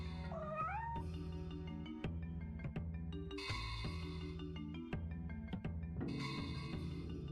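Cat meows in the video game Neko Zamurai, a rising, bending meow near the start followed by further cries over a loud, continuous game music bed.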